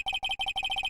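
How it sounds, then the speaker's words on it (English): Electronic phone ringtone in the game Phoenix Wright: Ace Attorney, a bright rapid warbling trill in short bursts, repeating four times within a second, clear and alone. "I heard the phone ring just now."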